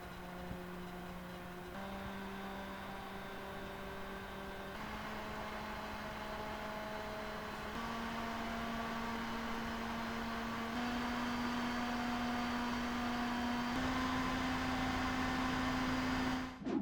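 The DeepCool Assassin IV CPU air cooler's fan hums steadily with a distinctive tonal vibration that steps up in pitch as its speed climbs past about 1,200 RPM. The drone is continuous and close, and no one talks.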